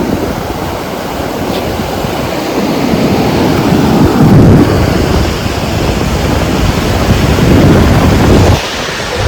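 Steady roar of surf with waves breaking and washing up on a beach, loud and continuous, swelling now and then.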